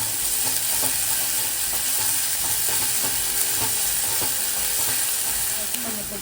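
Onions sautéing with salt in a pan for tomato rice, a constant loud sizzle of frying with occasional scraping and stirring sounds layered on top, no talking.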